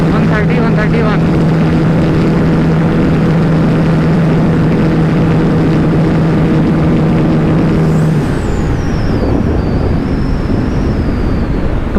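A Bajaj Pulsar NS160 motorcycle approaches at top speed during a drag race against a TVS Apache 160, its engine a loud, steady drone that shifts pitch as it nears and passes.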